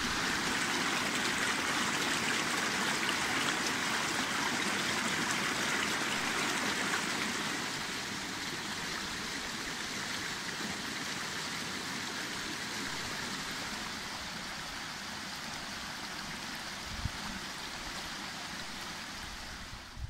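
A river flows steadily past a water wheel in a continuous rushing wash of water, dense and broad, with a faint knock near the end and no voices.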